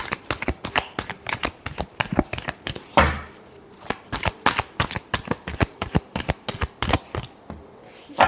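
Tarot cards riffle-shuffled by hand in a rapid run of crisp, close slaps and flutters, with one longer burst midway, heard alone without talking.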